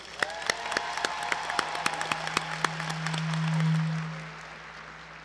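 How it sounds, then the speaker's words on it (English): Sparse audience clapping at a college graduation ceremony, individual claps spaced out over a sustained low hum or held tone that swells and fades. "Let's give them all a round of applause."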